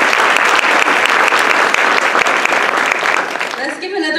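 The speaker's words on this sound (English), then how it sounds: "Let's give another big round of applause to Dr. Calvin Mackie" A gala audience breaks into loud, dense applause that carries on for several seconds, then thins as a voice comes in near the end.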